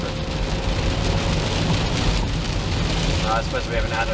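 Heavy rain pours steadily, a dense close hiss of drops pattering on surfaces with no break, while someone talks over it.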